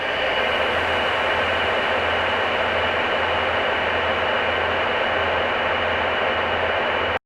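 A steady, dense droning wash of noise with a low hum underneath, continuous and unchanging, built from a train station recording, cutting off abruptly at the end.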